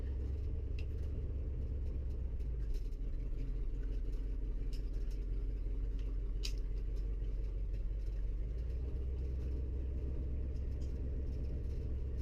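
An old Ford truck engine idles and rumbles steadily while the truck is shifted between neutral and reverse and eased into position, a continuous low drone filling the whole stretch without pause.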